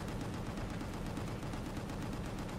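Rapid automatic gunfire rattles through a shooter video game as a dense, continuous barrage of closely spaced shots with no pauses.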